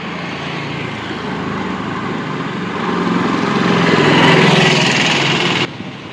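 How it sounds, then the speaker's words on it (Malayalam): Auto rickshaw on a road near Calicut, a buzzing small engine drawing closer and swelling in loudness before cutting off abruptly near the end. "ഒരു ഓട്ടോറിക്ഷ വരുന്നുണ്ട് കൈയാട്ടി നോക്കുക"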